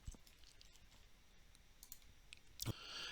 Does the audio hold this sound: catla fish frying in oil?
no